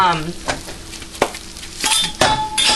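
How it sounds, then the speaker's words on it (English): Fat melts in a frying pan, giving a soft sizzle broken by sharp clanks and scrapes of a utensil on the pan, close and moderately loud, with no talking over it. "melt your fat of choice in the pan"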